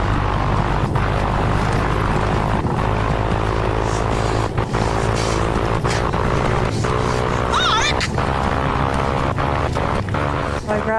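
A small plane's engine labours at high elevation in thin mountain air in Alaska, giving a loud, continuous droning hum with a throbbing harmonic tone throughout.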